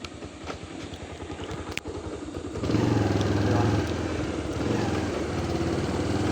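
A motorbike engine that had trouble starting runs steadily with a loud, rough, continuous rumble that swells louder partway through and then holds at a high idle.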